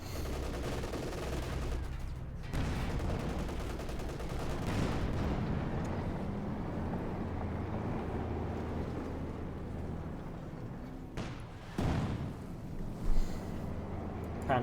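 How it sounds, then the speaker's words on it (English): Panther IV tanks firing in a Company of Heroes 2 battle: a dense, continuous wash of rumbling gunfire and explosions, with a few sharper, louder blasts standing out near the end. "Panther 4s, they're firing away."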